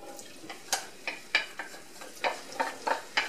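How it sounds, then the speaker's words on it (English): Onions frying in hot grease for Spanish rice, stirred with a series of sharp scraping strokes at an uneven rhythm over a faint, steady sizzle, close by and with no talking. "So my grease is all hot, so I'm going to add my onions here first."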